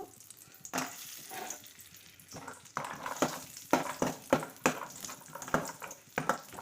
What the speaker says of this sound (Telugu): ఇప్పుడు కొంచెం జీడిపప్పు అయితే వేయించుకుంటున్నాను